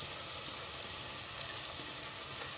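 Soaked dal sautéing in a hot pan for dal palak, with red chilli powder already added. A steady, close sizzle and crackle runs evenly throughout with no talking.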